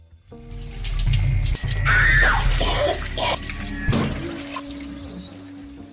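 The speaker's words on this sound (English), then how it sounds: "She then goes to take a shower to get ready for the barbecue." Water runs steadily from a shower in a film scene, a broad continuous wash with a few brief knocks and small bird-like chirps over it, fairly close and with no talking.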